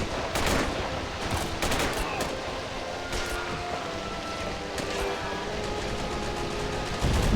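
Sustained automatic weapons fire in a large-scale military video game battle, a dense unbroken roar of rapid shots and rumbling vehicle noise, loud and continuous throughout.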